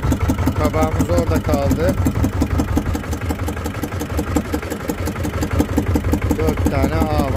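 Small fishing boat motor running steadily while red mullet trammel nets are laid off Karaburun, a continuous mid-pitched engine drone throughout with someone speaking over it.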